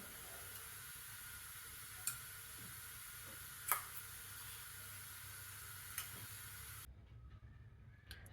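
Ghee sizzles faintly and steadily in a hot pan for rice kheer, a soft hiss with a few sharp ticks of utensil contact; no voices.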